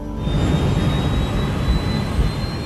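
Jet airliner engines roar loudly and steadily during the takeoff roll, a dense low rumble with a thin high whine riding on top, continuous and close, with no talking.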